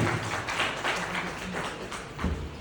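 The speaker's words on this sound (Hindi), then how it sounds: "जोरदार तालियां" Seminar attendees at a health and wealth gathering in Almora break into applause for a speaker, a crowded, muffled patter of many hands with a low hum beneath, steady throughout.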